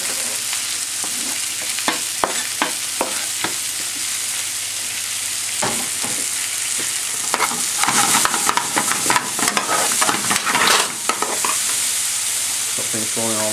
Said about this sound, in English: we're going to add in now the green and the red pepper.